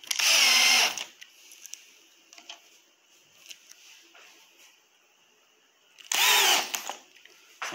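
A power drill drives screws while a shoe rack is being assembled, with two loud bursts of whirring at the start and end and quiet handling clicks and taps in between.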